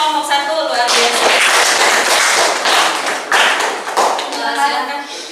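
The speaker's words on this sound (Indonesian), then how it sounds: "Kasih tepuk tangan untuk kelompok 1, luar biasa." Classroom audience claps for a student discussion group after their presentation, a burst of loud, irregular clapping by a small group lasting several seconds and tapering unevenly at the end.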